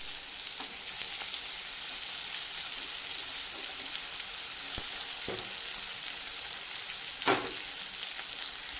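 Sliced onion and lentils sauté in hot oil with mustard seeds, a continuous bright sizzle close by, punctuated by a few scattered pops and a louder crackle near the end.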